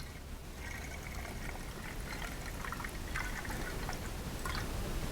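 DPF cleaning fluid pours steadily into a canister held at a slight angle, a close, continuous trickling stream with small splashes and drips throughout.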